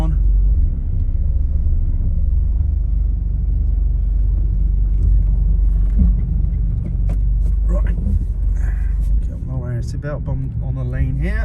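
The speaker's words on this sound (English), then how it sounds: "So I'm just gonna take the car for a drive here on the lane" A 2011 Mercedes A-Class W169 2.0 diesel, showing an ESP fault, drives along a country lane with a steady low road and engine rumble, and someone talks over it toward the end.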